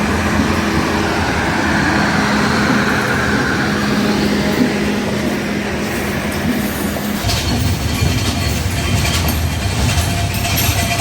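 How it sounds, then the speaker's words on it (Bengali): Chitra Express intercity train pulling away from the station, steady loud rumble of the carriages with rhythmic clickety-clack of wheels on the rails building throughout, recorded from on board. "ইতিমধ্যে আমাদের ট্রেনও ছেড়ে দিল।"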